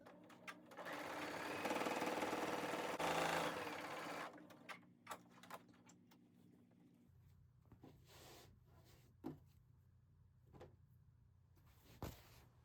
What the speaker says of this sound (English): So I'm gonna now stitch together this last block.